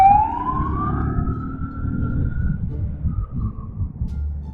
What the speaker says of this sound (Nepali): आजकल एम्बुलेन्सहरूको आवाज जावाज धेरै भइरहेको छ है